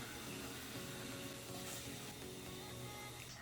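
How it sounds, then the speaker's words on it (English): Easter egg dye tablet fizzes as it dissolves in vinegar water, a faint, steady hiss of tiny bubbles heard close up and on its own. "You can hear it fizzing, so we're just waiting for them to dissolve."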